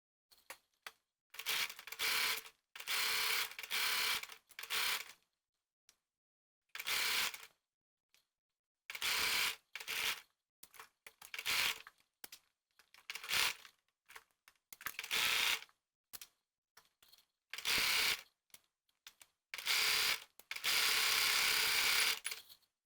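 A sewing machine stitches a jacket sleeve seam for a Know Me ME2136 pattern, running in a series of short, close bursts separated by quiet pauses, with a longer steady run at the end.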